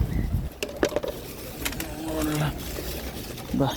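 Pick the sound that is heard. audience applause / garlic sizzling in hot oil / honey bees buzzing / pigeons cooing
pigeons cooing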